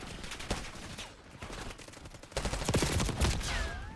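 Automatic gunfire rattles in a first-person shooter game, with rapid bursts of shots over game sound effects that grow louder and denser toward the end.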